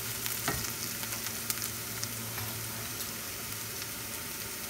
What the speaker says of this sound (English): I will fry the onion till onion is not getting little brown color